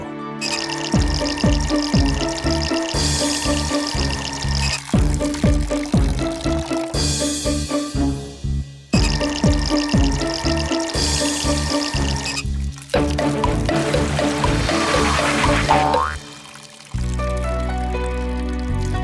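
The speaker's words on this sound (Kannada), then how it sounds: "ಅಯ್ಯೋ ಸಿಂಕ್ ಅಲ್ಲಿ ನೀರ್ ಸೋರ್ತಿದೆ" A cartoon kitchen sink leaks water as stylised, rhythmic drips and pouring splashes. The bursts repeat in regular blocks, loud and up close, with no talking over them.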